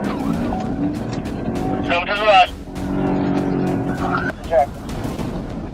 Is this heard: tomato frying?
no